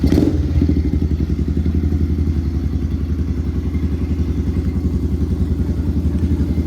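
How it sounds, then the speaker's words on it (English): A Kawasaki KLX110 pit bike engine fires up after a brief crank, then settles into a steady, loud, close idle with a rapid, even putter and some mechanical clatter. "Let's see if I can fire it up here."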